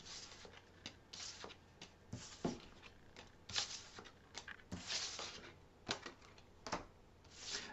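Tarot cards being shuffled by hand, heard as quiet intermittent riffling bursts and soft papery taps spread over several seconds, with no speech.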